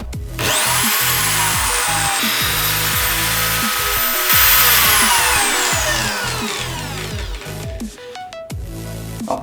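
A HiKOKI electric drill in a drill stand grinds steadily through wood with a 50 mm hole-cutting bit for several seconds, loud and close, its pitch sliding as the bit bites, then winding down.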